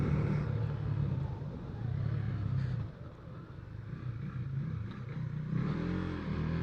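A 2020 KTM Duke 390 motorcycle engine runs at a steady, moderate drone with a slight dip and pickup midway, consistent with easy gear changes while riding; wind rumble sits underneath and no one speaks.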